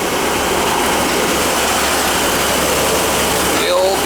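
Tap water runs into a slow-draining kitchen sink, a steady loud rushing flow throughout with a faint gurgle near the end.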